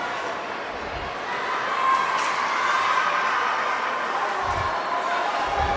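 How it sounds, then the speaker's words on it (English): A loud crowd roars steadily at an IIHF ice hockey game between the Philippines and Hong Kong, China. The din swells slightly partway through, with a few dull low thumps underneath. "the crowd is just amazingly loud here today"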